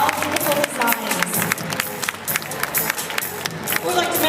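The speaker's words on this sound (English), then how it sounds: "Let's give them a really big round of applause." Fashion show audience applauding: dense, loud clapping from a large crowd with some cheering and crowd murmur throughout.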